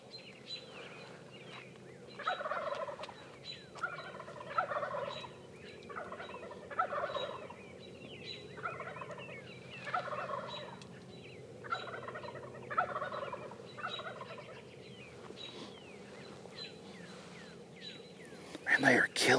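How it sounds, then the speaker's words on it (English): Wild turkeys gobble repeatedly near a feedlot in Nebraska, with about a dozen distant, rhythmic calls coming one after another, while people speak quietly nearby. "That's the most gobbling we've heard all year."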